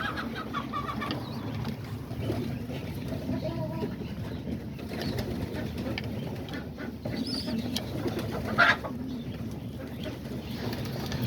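Homing pigeons in a loft give soft, low cooing in a quiet, continuous background, with occasional faint chirps from other small birds nearby.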